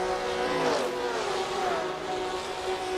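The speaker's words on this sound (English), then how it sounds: "Oh, Mr. Engine Rev's back in the pits." A race car engine in Assetto Corsa or Le Mans Ultimate revs and whines in the distance from the pits, its pitch rising then settling into a steady drone.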